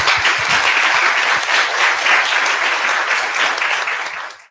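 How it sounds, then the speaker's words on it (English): Loud, dense applause from a conference audience for a panel at an access-to-justice research event, sustained for several seconds before tapering off at the end. "So how about a round of applause for our panel?"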